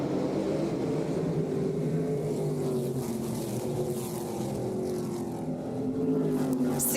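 ARCA Menards Series stock race cars roar back to speed on a restart at Berlin Raceway, a dense, sustained wall of engine drone with rising pitch sweeps as the pack accelerates together.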